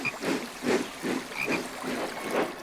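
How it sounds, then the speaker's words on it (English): A green frog croaks beside a babbling brook, giving a steady series of rhythmic, raspy calls at moderate volume that repeat roughly every half second. "he is very surprised to see a frog. A beautiful green frog."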